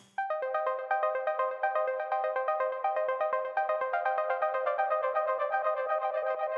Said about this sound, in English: we've got this little melody that comes in.